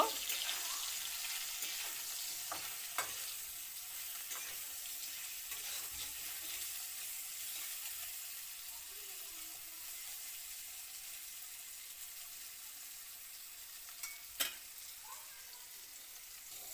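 Fish frying with salt and turmeric, a faint steady hiss of oil with a few soft clinks and scrapes, quiet and even throughout, with no clear talking.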